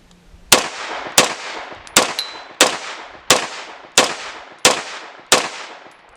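Springfield Armory Kuna PDW firing eight sharp, evenly spaced shots at a steady semi-automatic pace, each loud crack trailing off into a short ringing decay, with no talk over them.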